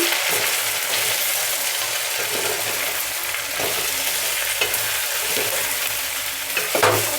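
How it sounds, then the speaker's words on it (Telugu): Taro curry in a pan seasoned with chili powder and salt is stirred, steady frying hiss with scraping spoon strokes throughout, close and fairly loud, no talking. "ఒక టీ స్పూన్ కారం తగినంత సాల్ట్ వేసుకున్నాం కదా ఒకసారి కలుపుకున్నాము"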